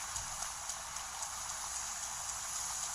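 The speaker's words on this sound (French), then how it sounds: "Ah oui, mais sauf qu'il pleut." Steady rain in Zelda Breath of the Wild hisses as a continuous, even wash of droplets at low volume, with soft hoof clip-clops faintly underneath and no talking.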